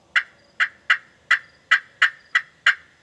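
A slate pot turkey call is worked by hand, giving eight sharp, evenly spaced yelps. Each note is crisp, close and loud over near silence.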